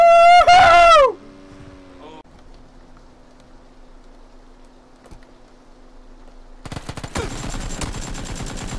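AK rifle gunfire in the PUBG video game comes as rapid automatic bursts that fill the last seconds loudly, after a quieter stretch that follows a shrill sound at the start.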